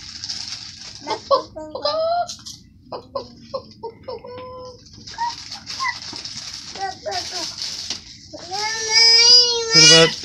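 A one-year-old child imitates a chicken's clucking in short bursts of voiced calls, mixed with other childish vocal sounds and nearby adult talk.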